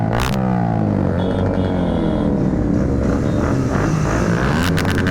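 Loud motorcycle exhaust roars steadily and close, a dense continuous engine drone with rising and falling revs that fills the whole stretch, no voices on top.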